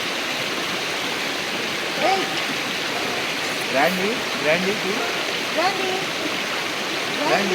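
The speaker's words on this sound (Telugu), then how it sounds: "ఈ వాటర్ ఫ్లో సౌండ్, పొద్దునే" A jungle stream at Dandeli in the early morning rushes steadily in a constant broad hiss, with faint birdsong and a few brief chirps rising over the flow.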